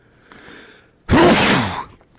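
One loud, close human sneeze follows a short soft inhale, a single sharp burst lasting under a second.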